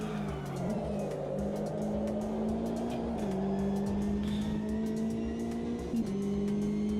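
GT3 and GTE race cars in a sim racing game: a steady close engine drone with shifting pitch steps and gear changes, other cars nearby, running continuously for the whole stretch.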